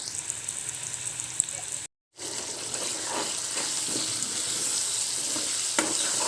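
Ginger-garlic paste, added after turmeric, sizzles steadily in hot oil and is stirred with a spoon; a brief gap of silence breaks the sound early, then the frying continues loud and close with occasional scraping clicks.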